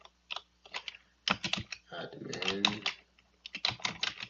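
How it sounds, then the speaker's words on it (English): A password is typed on a computer keyboard in quick bursts of key clicks, interleaved with a person speaking over and between the typing. "What did I type as the password?"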